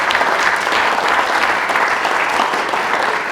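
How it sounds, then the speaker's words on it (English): Audience at a talk breaking into loud, sustained applause, a steady dense clapping that fills the room with no voices over it. "I think we need a applause for it."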